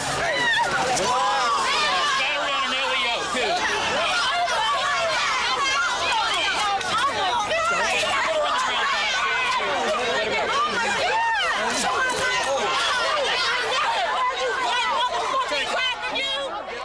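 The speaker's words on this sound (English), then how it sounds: "Police say a large crowd refused to break up." A large crowd packing the streets of an Orlando entertainment district during police arrests, a dense, continuous babble of many voices shouting and chattering, loud and close throughout.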